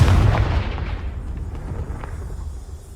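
A Confringo fire blast spell erupts in Hogwarts Legacy, a single heavy, booming burst that hits hard at the start, then rumbles and fades over a few seconds.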